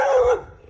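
A single loud, close dog bark with a short tonal howl-like tail that fades out quickly.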